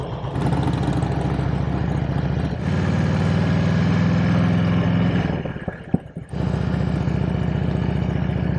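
A motorcycle engine idling and revving close by, a steady mid-range rumble that rises in pitch, dips briefly with a sharp knock, then settles back into a constant drone.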